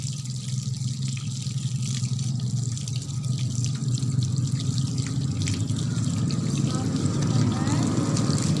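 Hands washed under a running tap during an antenatal care examination, with a steady close stream of water splashing and trickling throughout, a voice speaking faintly underneath.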